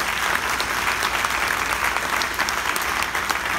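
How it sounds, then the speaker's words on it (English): An audience at a high school band event applauds honor band students with dense, even clapping that carries steadily from start to finish, with no talking. "Let's give them a round of applause."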